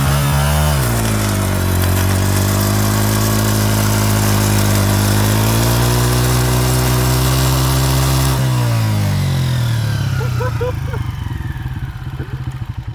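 A homemade motorcycle driven by a gate chain revs hard on dirt, its engine droning loud and close with a rising pitch before the revs suddenly drop and the tire churns the ground, while voices talk over it.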